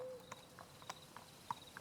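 Horse hooves clip-clop at a steady walking pace as a quiet ambient effect in a tabletop role-playing session, soft, sparse clops over a low background hum.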